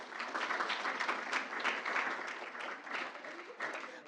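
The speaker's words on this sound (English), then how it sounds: "I'd like to give a round of applause for amazing students" Soft, steady clapping from a room of people at a school board meeting, given as a round of applause for students, fairly distant and continuing unbroken with faint voices underneath.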